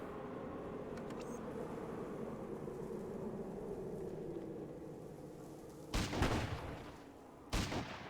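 Video game gunfire in a firefight with raiders, a quiet rumbling background broken by two loud bursts of shots near the end.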